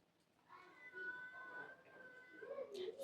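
A cat meows in a drawn-out, wavering call lasting a couple of seconds, fairly close and clear against a quiet room, rising slightly toward the end.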